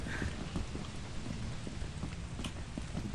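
Steady rain in the video game Lethal Company, a dense continuous hiss of falling drops with faint scattered taps, heard alone without talk.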